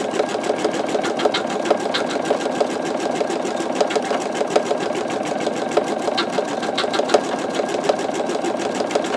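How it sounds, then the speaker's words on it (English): Embroidery machine stitching out a skull design, a fast, even mechanical chatter of the needle with occasional sharper ticks, steady and close throughout with no voices. "I'm going to go let this go ahead and continue playing while this stitches out so you can see."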